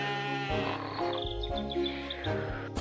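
Sheep bleat on a farm diorama scene, several wavering calls in quick succession, close and fairly clear, with no talking.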